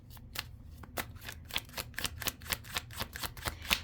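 Tarot cards are shuffled by hand in quick, crisp riffles and taps, a steady irregular run of close, soft paper clicks with no talking.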